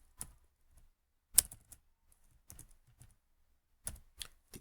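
Sparse, irregular keystrokes on a computer keyboard while HTML code is entered, a handful of crisp close taps separated by quiet pauses.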